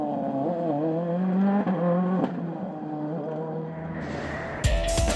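A rally car on snow tyres at the WRC Monte Carlo rally revs hard with rising and falling engine notes, loud and close, ending in a sharp burst as it passes.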